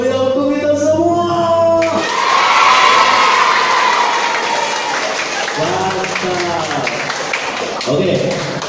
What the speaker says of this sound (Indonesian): Tepuk tangan yang meriah untuk kita semua.